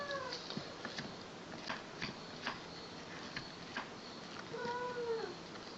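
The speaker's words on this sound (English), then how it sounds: "That's my cat April" A pet cat meows indoors, with a couple of rising and falling mewing calls near the start and another drawn-out meow near the end, fairly close, over a low steady room noise.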